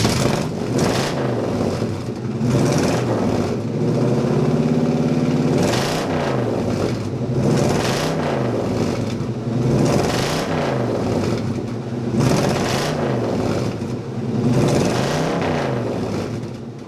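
A 1980 Chevrolet Camaro with a 5.7-litre V8 rumbles close by, its deep idle swelling into repeated revs that rise and fall roughly every two seconds.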